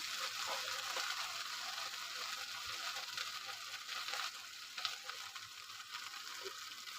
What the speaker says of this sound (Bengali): ভেন্ডিটা একটু ভেজে নিই আমি হালকা করে